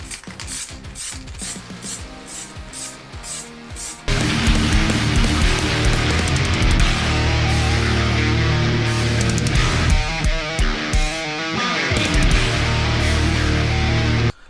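A spray paint can hisses onto a car exhaust manifold, a loud, dense, continuous spray burst after a few seconds of clattering rattles and mechanical clicks, ending abruptly.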